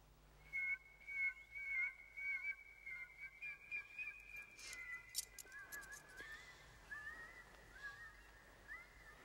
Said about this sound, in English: as I listened to the bird of grief, as I heard the way it sang